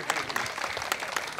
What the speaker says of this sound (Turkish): Alkışlarını isteyebilir miyim sizlerden?